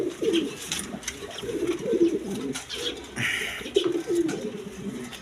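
Pigeons kept for sale, including a hen sitting on eggs in a pot, give repeated low throaty coos in close rolling phrases, some overlapping, with faint background noise and no speech.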